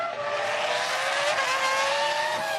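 Formula One race cars from the 2004 season, including a McLaren, scream past on track with high-pitched engine whine rising and falling as they pass, loud and close, no voices.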